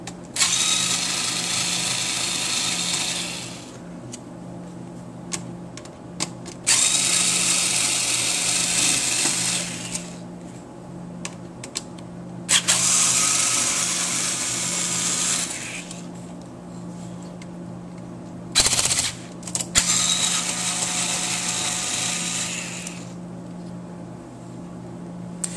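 A small electric screwdriver whirs in several long runs, with short pauses between, as four screws come out of the RF board in the front of a PS3; close, steady buzzing with no talk.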